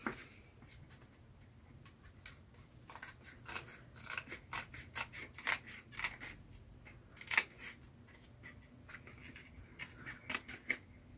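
Paper being trimmed with scissors while working on a rainbow junk journal, a string of close, crisp snips and crunches in uneven bursts, some quick and clustered, others spaced apart, over a quiet room with no speech.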